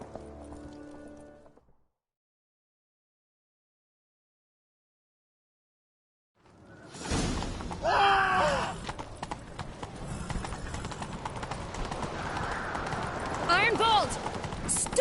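After a brief sound and a silent gap, galloping horse hooves pound steadily with a horse neighing in the video game The Witcher 3, a busy rumble over the hoofbeats.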